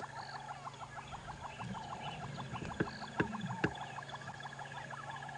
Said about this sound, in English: Turtle doves, yellow-billed hornbills.